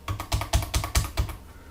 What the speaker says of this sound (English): if I just start typing on the keyboard